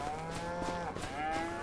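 Cows moo in Farming Simulator 25 in overlapping drawn-out calls, several animals lowing at moderate loudness against a steady game background.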